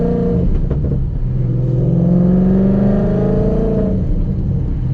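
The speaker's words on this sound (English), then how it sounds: "just listen to this exhaust." A deep, throaty exhaust from a tuned Stage 3 Roush Mustang drones close by, rising in pitch as the engine revs up and then settling back, loud and alone.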